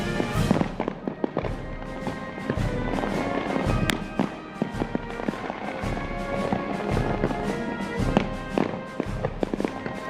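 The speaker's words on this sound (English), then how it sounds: "Pedro's happy they're doing fireworks" Fireworks over the National Mall during Salute to America 250 crackle and pop in rapid irregular bursts, dense and fairly loud, with sharper bangs scattered across a steady rumble.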